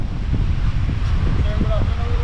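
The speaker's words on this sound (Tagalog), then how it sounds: "Silipin natin yung lakas ng hangin." Strong wind buffets the microphone at a beach in Baler, making a constant roaring rumble with a faint wash of surf underneath and a voice briefly audible.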